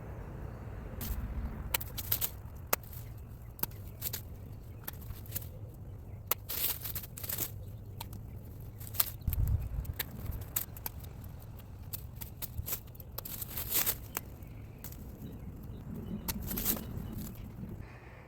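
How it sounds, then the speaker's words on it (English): Pear tree branches being pruned outdoors: a long run of crisp, close snips and clicks from pruning shears at an irregular rhythm, with faint rustling of leaves and twigs between cuts. "So I'm going to prune some of these extra pieces back."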